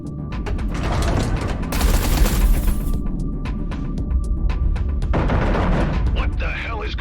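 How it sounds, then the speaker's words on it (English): Artillery fire on a carrier in the space combat game Everspace 2: a steady barrage of rapid booming shots and crackling impacts, loud and dense, with a voice speaking over part of it. "Eduardo, concentrate artillery fire on Blakemore's carrier."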